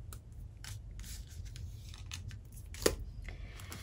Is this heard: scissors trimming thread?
yes